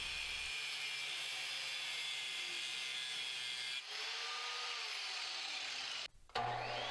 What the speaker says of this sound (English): I had to trim the T-bolts down to size with the angle grinder.